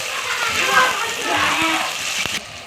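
Three tomatoes with onion hit a hot pan for chicken gravy, giving a steady sizzling hiss with small splatters and stirring clinks.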